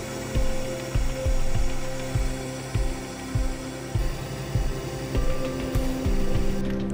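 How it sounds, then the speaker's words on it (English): A plunger is pressed into material inside a Magnum Venus Products single component dispensing unit, giving a steady mechanical hum with regular low thumps and clicks at about one-second intervals. No one speaks. "now you're ready to plunge the plunger into the material"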